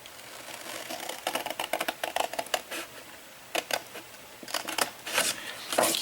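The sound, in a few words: cutting paper along the score line with scissors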